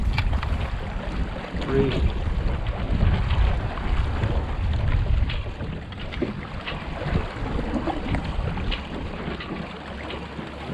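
An outboard motor drones on a MacGregor 26x sailboat out on the water off Tampa. A low, steady rumble is mixed with wind buffeting the microphone and water noise, and a voice briefly speaks.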